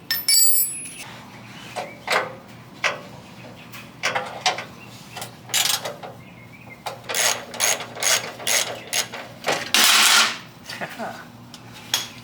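Socket wrench ratcheting a bolt on the fuel tank of a 1967 Impala, heard as repeated close bursts of clicking strokes with short pauses between them, alone with no talk.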